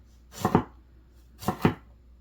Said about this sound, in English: chop it up, cut off the very, very tip